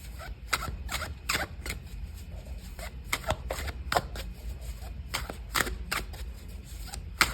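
A deck of tarot cards is shuffled over and over, giving a steady run of crisp riffling bursts and soft slaps, close by and moderately loud, with no talking.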